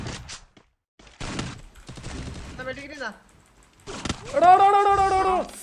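Bursts of gunfire and game effects from a mobile battle royale shooter in a grand master lobby, short loud volleys between quieter stretches, with an excited player talking over the action.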